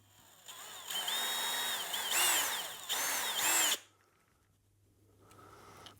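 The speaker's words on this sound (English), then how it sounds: "And then we'll just pop some screws in." Power drill driving screws to fix tuners on a custom Les Paul guitar, in three loud whirring bursts of rising and falling pitch, followed by near silence and a faint tail.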